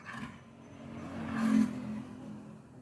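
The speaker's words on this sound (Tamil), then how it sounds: "இப்போ ஆக்சிலேட்டரை மெதுவாக கூட்டிக்கிட்டே வாங்க" A car engine idling and rising gently as the accelerator is slowly pressed, a soft steady hum swelling to a modest peak before easing back, heard from inside the car.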